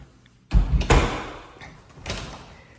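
An apartment door thuds and rattles open nearby, followed a moment later by a second softer knock, with faint room noise between.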